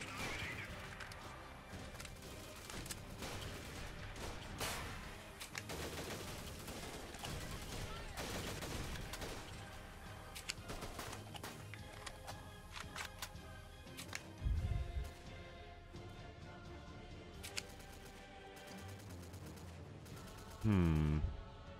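Gunfire rattles in the game Freeman: Guerrilla Warfare, with repeated shots and bursts including a shotgun booming in the background, steady and mid-distance throughout with a couple of heavier blasts, under someone talking.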